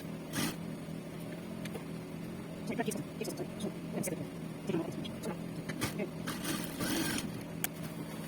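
Sewing machine stitching a pencil skirt, faint rapid mechanical whirring in uneven bursts with sharp clicks, under quiet background noise.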